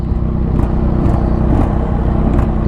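2022 Indian Chief Darkhorse motorcycle engine running steadily under throttle, a loud, continuous rumble close by with a few faint mechanical ticks and no talking.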